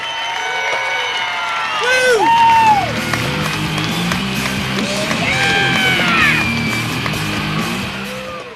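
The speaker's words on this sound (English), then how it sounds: "How about a big round of applause for Westport, Mass's Jody Tripp in victory lane" Crowd at Seekonk Speedway applauds and cheers a sport truck race winner in victory lane, with scattered claps and a whoop under an announcer's voice and loud whistling tones.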